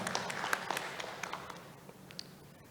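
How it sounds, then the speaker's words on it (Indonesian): Seminar audience clapping in a hall during a national dance seminar, a faint scattered round of applause that thins out and fades over a couple of seconds. "Tepuk tangan untuk Mas Bathara"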